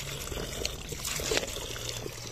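Drinking water pours from a public tap in Spain, a steady close trickle and splash over outdoor background noise with no speech.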